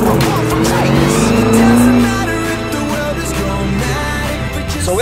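A Dodge Charger Hellcat drives on the road with a loud, steady engine roar that swells briefly, then settles into a lower, sustained drone with faint tire noise.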